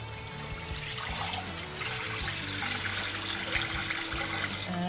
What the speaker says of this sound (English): I put water in here.